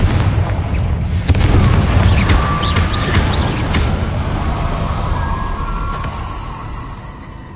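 A Confringo fire spell explodes in the video game Hogwarts Legacy with a heavy, loud boom that rumbles and slowly fades over several seconds, and faint magical chimes sound above it.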